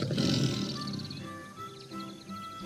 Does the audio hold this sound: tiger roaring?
yes